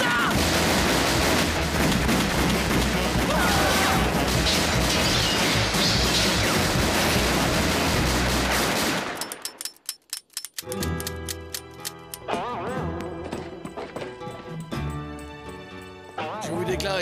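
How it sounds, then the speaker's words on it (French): A cartoon Western shootout, with a dense, loud volley of gunshots crashing together for several seconds, then a sudden break into scattered individual shots and clatter. "On tire dans le tas!"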